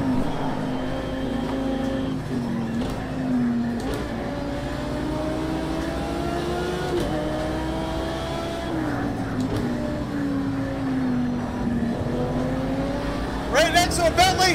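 Racing in the Project Cars 2 video game alongside a Bentley and an Acura NSX, with engines rising and falling in pitch as the cars accelerate and shift. A player talks over the steady engine noise throughout.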